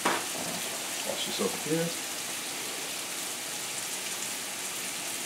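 Pork tenderloins fry in oil in a pan with a steady, even sizzle throughout, while a voice speaks briefly over it.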